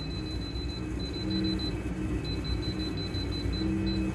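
Kitchen timer being set beside an oven, a run of short, evenly spaced high electronic beeps in two bursts over a low background hum, with no talk.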